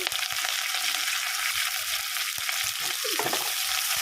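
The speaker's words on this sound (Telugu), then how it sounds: "అప్పటి వరకు ఈ ఉల్లిగడ్డలు ఫ్రై చేస్తున్నాం" Onions and curry leaves fry in hot oil, giving a steady close sizzle with a few stirring scrapes near the end.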